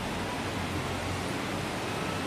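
A dense, steady rush of air roars without pause from a Maspion PW2004S electric stand fan running at high speed at close range.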